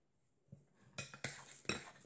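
Corn flour being mixed into lotion in a bowl, a few sharp clinks and scrapes of utensil against the bowl in quick bursts, close and fairly quiet with no talking.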